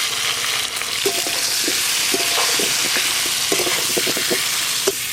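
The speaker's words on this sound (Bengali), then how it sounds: "এবার এই আলুগুলো খুব ভালো করে লবণ হলুদ দিয়ে ভেজে নেব।" Potato pieces sizzle in hot oil with salt and turmeric, a dense steady frying hiss broken by scattered clinks and scrapes of a spatula stirring the pan, close and with no talk.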